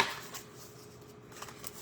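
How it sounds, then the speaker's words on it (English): Decks of tarot cards are shuffled in quiet, soft riffling bursts, faint and close by, with no voices. "I'm gonna shuffle up these decks"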